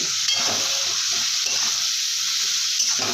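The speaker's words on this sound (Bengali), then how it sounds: "এখানে অল্প জল দিয়ে আমি মশলাটা কষিয়ে নেব" Masala frying in a pan with a little water added, a loud continuous sizzle and hiss close up, with faint stirring scrapes underneath.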